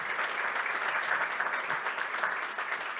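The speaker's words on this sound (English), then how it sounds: "You can give them a round of applause." Audience applause at a startup demo day event, a steady even roar of many hands clapping throughout, moderately distant and unbroken by speech.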